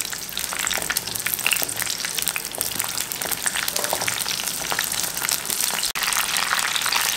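Ingredients for a sea fish curry fry hard in hot oil in a pan, a loud, dense, continuous crackle and sizzle with sharp spits popping throughout, close and steady.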